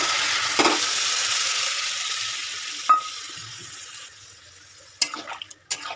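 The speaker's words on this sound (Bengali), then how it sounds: "এবার আমি এর মধ্যে জলটা ঢেলে দিলাম" Water poured into a frying soybean, potato and pointed gourd curry sets off a loud hissing sizzle that slowly fades, broken by a few clanks of a spoon against the pan.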